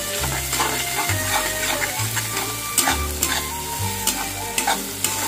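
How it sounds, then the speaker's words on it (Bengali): Onions frying with sugar in a pan, a steady loud sizzle under repeated scraping strokes of a spatula as they are stirred, with no voices. "দিয়ে এটা আবারও এটা কষিয়ে নিতে হবে ভালোভাবে"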